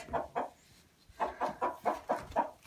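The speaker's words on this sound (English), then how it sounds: "There's a chicken over there." Backyard chickens kept by grandparents cluck close by in a quick, irregular series of about eight short, throaty bursts with a brief pause after the first two, alone and with no talk.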